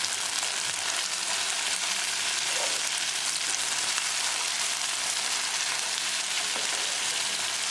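Okra and sardines sizzle and fry in a pan while being stirred, a steady close hiss of hot oil with faint scraping, continuous and without talk.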